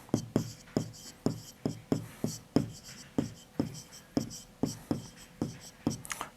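Pen or chalk strokes scratch out fractions by hand in a steady run of quick, short, evenly spaced taps and scrapes, close and fairly quiet, with no voice over them.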